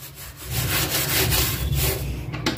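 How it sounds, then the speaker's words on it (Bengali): Dirt being scrubbed off a kitchen surface during a winter cleaning day: steady, close rubbing strokes with a coarse, gritty texture that runs continuously for a few seconds, with no voices. "তো এটা খুব ভালো করে একটু ঘষে ঘষে আর কি ময়লাগুলো তুলে নিতে হবে।"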